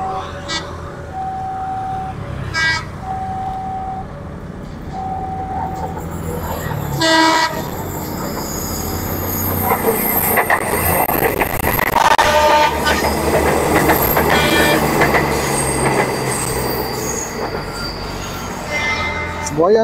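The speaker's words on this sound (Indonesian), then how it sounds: "Akan ada kereta api yang melintas kembali dari arah timur." A feeder passenger train on the Bandung route rolls past a railway crossing near the Ciroyom flyover, its wheels squealing loudly and steadily for most of the stretch, with a horn blast and rumbling railcars close by.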